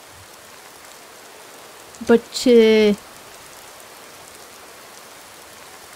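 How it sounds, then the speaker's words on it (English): Steady, even rain falls in Skyrim, forming a soft wash of hiss throughout, with a brief spoken word over it. "I'm trying to keep the rain out of my eyes"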